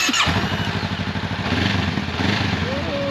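Yamaha XSR700 motorcycle ridden on a street, its engine droning steadily and close with a pulsing exhaust note and constant wind rush.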